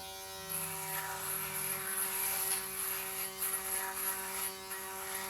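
A Laifen electric razor runs steadily while shaving, giving a constant close, faint high-pitched motor whine and buzz with slight flutters as it moves across the skin, heard on its own without talk.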